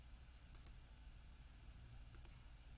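Two quick pairs of computer mouse clicks, crisp and close, about a second and a half apart against a faint low hum, while navigating an online course page.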